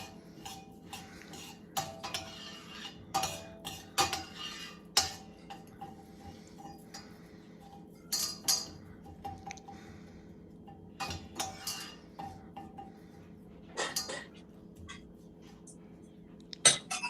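Metal utensil stirring food in a pot in a home vegan kitchen, a series of light clinks and scrapes spread unevenly through the stretch, under a faint background voice.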